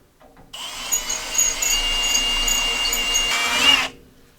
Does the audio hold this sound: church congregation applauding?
no